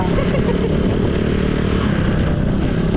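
A motorcycle engine runs steadily and close by throughout, a continuous low rumbling drone with slight clatter and no clear revving.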